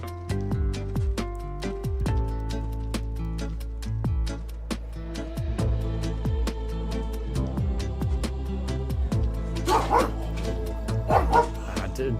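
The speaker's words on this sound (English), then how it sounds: "One of our neighbours has a dog opposite us, and I can hear the dog barking." A neighbour's dog barks repeatedly across the street, a run of sharp woofs and yips with some whimpering, heard under game music and sound effects indoors.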